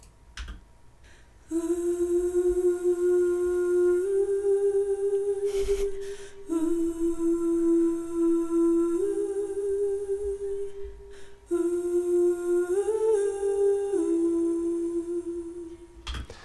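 A voice sings a string of held notes as double-tracked backing vocals panned left and right, two matching takes blending together, with short breaks between phrases.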